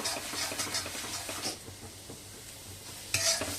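Ingredients sautéing in an iron kadai for chicken kadai rice, with rhythmic scraping stirs over a low crackling sizzle, pausing briefly before a louder stroke near the end.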